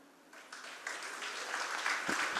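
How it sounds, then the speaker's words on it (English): Students at a college Onam (Trikonam) celebration in Mangalore clap together, the applause starting soft and swelling quickly into a fuller, sustained patter. "everyone claps with a little noise, good noise."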